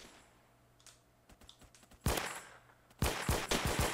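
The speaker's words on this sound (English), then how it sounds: "He's shooting with a pistol." Pistol gunfire in Roblox Phantom Forces: faint scattered clicks first, then two loud bursts of rapid sharp shots, each followed by quick successive cracks close by.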